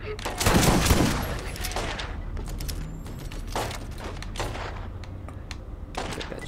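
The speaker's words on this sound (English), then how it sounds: "Still using Sledge's shotgun." Sledge's shotgun firing in the Borderlands shooter game, a heavy opening blast followed by several more sharp reports spaced a second or so apart over ambient game noise.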